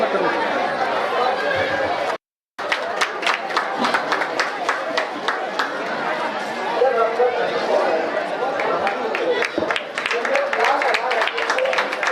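An audience at a village Chhattisgarhi Olympics sports event claps in welcome, with dense, continuous clapping mixed with crowd chatter and talk, broken by a brief dropout early on.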